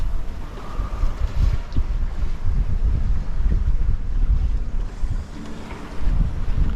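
Sailboat running under a double-reefed mainsail alone at about five knots off New Zealand, with steady wind rush buffeting the microphone and continuous water washing along the hull, no voices.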